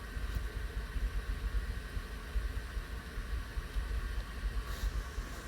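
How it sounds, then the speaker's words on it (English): A 2002 Chevrolet Suburban 4WD warms up at idle, its soft low hum and faint vibration running steadily throughout, with no voices. "I'm just running it a little bit to warm it up."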